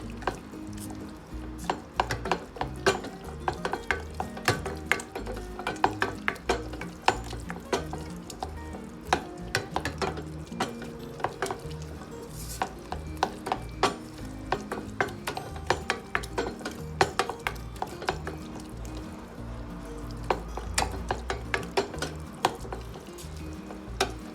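Antep-style breakfast sauce of peppers and tomato paste sizzling in a pan while a spoon scrapes and clacks against the bottom in a steady, busy stirring rhythm, no talking.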